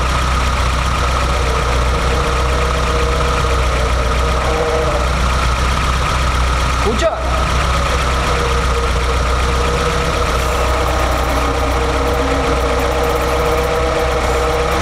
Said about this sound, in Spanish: el ruido está bastante feo y definitivamente viene de la caja